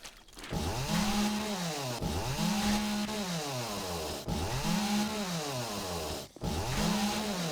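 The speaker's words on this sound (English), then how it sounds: "Boy, this chainsaw is so effective." A chainsaw in the video game 7 Days to Die revs and cuts in repeated strong bursts, the engine pitch rising and falling in a loud, rhythmic cycle with brief dropouts.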